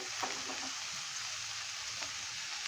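Chopped fenugreek leaves (methi), coarsely cut from a bunch and added to onions, sauté in a pan with a steady soft sizzle and a few faint stirring scrapes, no voices.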